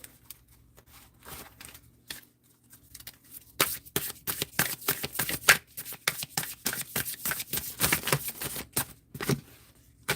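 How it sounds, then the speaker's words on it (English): A deck of oracle cards is riffled and shuffled up close, its rapid papery flutters and snaps building into dense, continuous bursts after a few softer handling sounds. "We'll give her a shuffle."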